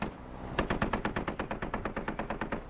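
Rapid automatic weapon fire from the SquadOps shooter, a steady stream of about fifteen close, loud shots in quick rhythm after a short pause, with no voices.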